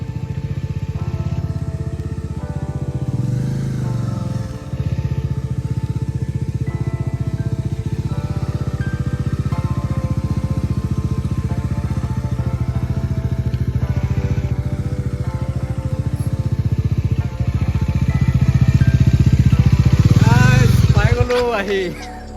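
A motorcycle engine drones steadily while riding on a bike, rising louder toward the end, with a voice talking over the ride.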